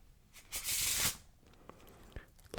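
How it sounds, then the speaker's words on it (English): A burst of riffling card shuffling, a dense papery flutter lasting about half a second, followed by softer scattered taps and rustles. "We will begin by giving each deck a shuffle."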